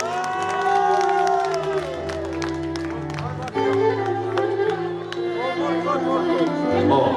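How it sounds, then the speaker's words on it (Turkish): Wedding guests at a Turkish celebration clap and cheer over loud live band music, a steady crowd roar with whoops blended into the ongoing melody. "Alkış var mı onlara?"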